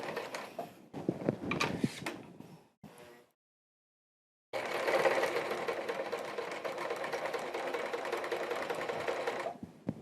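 A sewing machine stitches ultra suede chaps in two runs, a short burst, then a pause and a long steady whir of several seconds, close and clear with no talking.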